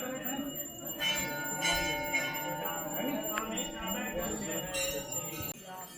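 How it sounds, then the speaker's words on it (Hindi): A temple bell offered by a former Nepal prime minister rings at a hillside temple near Bhowali, a few clear metallic strikes with a lingering ring amid faint crowd chatter. "नेपाल के प्रधानमंत्री द्वारा चढ़ाई गई ये घंटी"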